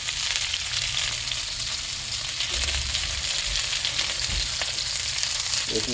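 Meat searing in a pan gives a loud, dense, continuous sizzle and crackle close up, steady throughout with scattered sharper pops.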